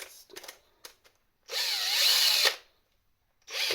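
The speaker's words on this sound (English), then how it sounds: "So you have to drill on the middle of the axis." A power drill bores a hole in the rear bumper of a VW Golf for a parking sensor, one steady whirring burst of about a second, close and loud, then a pause before it starts again.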